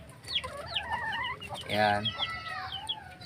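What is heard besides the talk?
backyard chickens clucking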